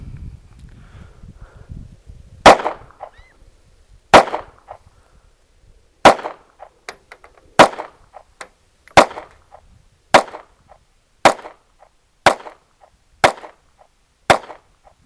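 Ten sharp gunshots from a CZ RAMI 2075 9mm compact pistol, fired one at a time at a steady, slightly quickening pace. Each report is loud and close with a short ringing tail, after a brief faint rustle.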